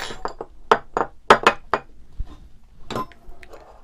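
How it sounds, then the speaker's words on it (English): A hex L-key grinds and clinks against the head of an M5 stainless steel screw while stripping it, giving a quick run of sharp metallic clicks and scrapes, then a pause and a few fainter taps. "first we'll go ahead and just strip the head on this one"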